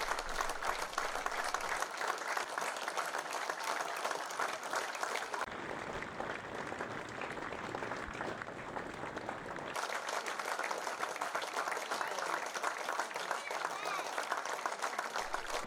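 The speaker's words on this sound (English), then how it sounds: "there'll be a minute's applause for Hal's own club president, Colin Brooks, who sadly passed away, aged 83" A football crowd at a Redditch United versus Spalding United match gives a minute's applause for a late club president. The clapping is sustained and fairly distant, with a muffled stretch partway through.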